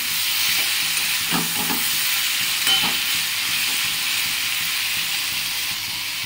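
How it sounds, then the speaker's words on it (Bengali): Vegetables with salt and turmeric are stirred in a pan over a full flame for a poppy-seed dish, a loud continuous hiss and sizzle with a few soft scrapes of the spoon, no voices. "হাফ মিনিট মতো ফুল ফ্লেমে লবণ আর হলুদ দিয়ে এটা নাড়াচাড়া করে নেব"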